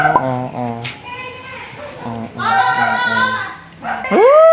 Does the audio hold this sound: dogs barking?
yes